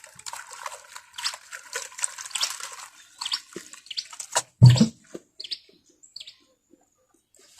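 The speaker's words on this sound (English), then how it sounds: "Then I add little water" Water is poured into a cooking pot (sufuria) outdoors in an African village, brief splashing and a metallic clunk amid intermittent clatter, with birds chirping in the background.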